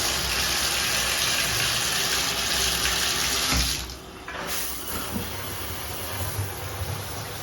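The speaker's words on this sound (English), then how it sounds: "we will demonstrate the shower in 3, 2, 1, except it's like warming up" A hotel room shower at a La Quinta Inn in San Diego running while it warms up, a loud steady close spray that dips briefly midway, then continues hissing evenly, with no speech.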